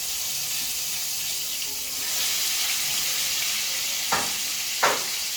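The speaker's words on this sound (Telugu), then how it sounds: "పసుపు వేసుకున్నాను కొంచెం ఆయిల్లో. ఇప్పుడు చేపలు వేసేసుకుంటున్నాను." Dried fish frying in a little oil with turmeric while a curry is cooked: a steady, soft, hissing sizzle throughout, with two brief clatters near the end as the fish goes in.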